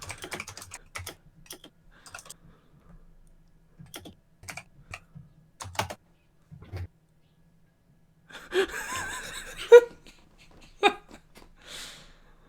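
Fingers tap a computer keyboard in scattered bursts of soft, quick clicks, close and quiet, with breathing and a gasp between the keystrokes.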